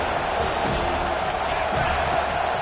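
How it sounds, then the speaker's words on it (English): Stadium crowd roaring through a football third-down play, a dense, loud and continuous wall of cheering and shouting that holds steady without a break. "These fans are going absolutely nuts."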